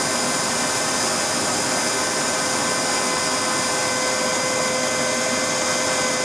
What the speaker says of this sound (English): I'm using a leaf blower, which is obviously way too loud, and it's blowing too much air